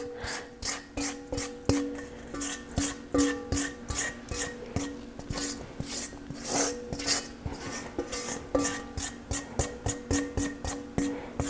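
Spoon clinking rhythmically against a glass or bowl while stirring lime juice and sugar together for a cranberry margarita, a steady run of close, bright clinks and scrapes with no talking.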